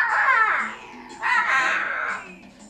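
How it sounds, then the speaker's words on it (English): Screeching, bird-like calls from Cerberus, a whale shark in the Banjo-Kazooie video game: two drawn-out harsh caws, loud and close, with a brief dip between them. "Cerberus is a whale shark that sounds like a bird."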